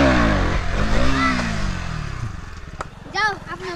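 A motorcycle engine revs loudly and close at the start, then drops in pitch and settles into a low, steady rumble, with a brief clatter and a short rise near the end.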